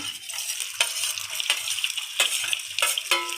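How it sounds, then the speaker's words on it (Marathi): Eggs sizzle in hot oil in a pan for an egg dum biryani, a steady close hiss broken by a few sharp metallic clinks. "हे तेल गरम झालेलं आहे त्याच्यात मी अंडे टाकते"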